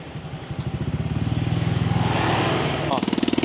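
A motorcycle engine putters close by in a narrow alley, its rapid rhythmic thumping building slightly as it passes, with a brief clatter near the end.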